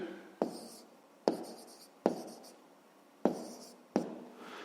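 Pen strokes on paper during a fifth-grade maths exercise, five distinct scratchy writing bursts, each with a sharp onset that trails off, close and clear with no talk over them.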